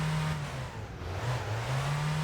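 Car engine in a video game held at a high, strained rev while driven fast and reckless, a continuous droning whine that wavers slightly in pitch, loud and close with no other sounds.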